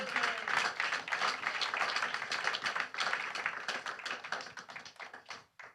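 A church congregation claps together in praise, dense brisk applause that stays loud and then thins out and fades near the end, with no clear talking.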